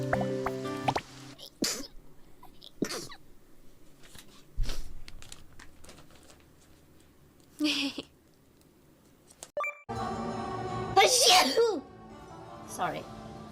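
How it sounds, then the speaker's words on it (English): A VTuber on a livestream lets out a sneeze: a few short, sharp bursts stand out against a quiet room, followed by a louder burst near the end, with a voice speaking softly around them. "I'm gonna sneeze."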